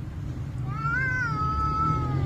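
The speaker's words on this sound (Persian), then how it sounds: "دعوای گربه را خیلی وحشتناکه" Cats fighting give a loud, close, drawn-out rising and falling yowl over a steady rumbling background, with no talk.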